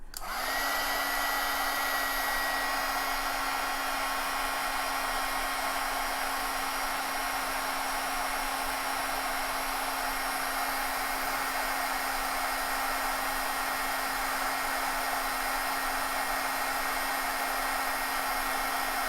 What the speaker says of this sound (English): I'm just going to put the heat tool on this, and we're going to go ahead and set this color